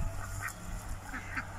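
A young Cayuga duckling gives a few soft, short quacks over a steady low hum, fairly close and faint, with gaps between calls.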